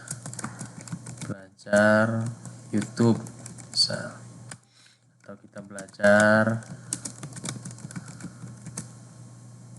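Quick clicking keystrokes tap along intermittently while a person speaks over them.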